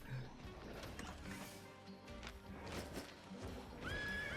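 A horse in the online role-playing game Albion Online gives a short whinny near the end, rising over a busy bed of game combat and movement sounds.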